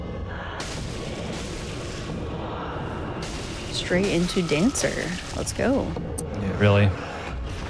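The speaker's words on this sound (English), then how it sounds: "Oh, the funny explosion attack." A boss's explosion attack in a video game booms in several rumbling bursts over a noisy rain-like background, with people talking and game sounds around it.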